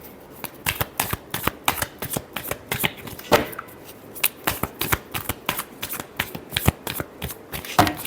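Tarot cards being riffled and shuffled by hand, crisp rapid flicks repeating in quick bursts throughout, close and clear with no talking.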